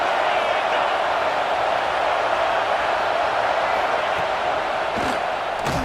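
A packed home crowd roars steadily at a college football game, a loud continuous wall of cheering with whoops and a commentator talking over it.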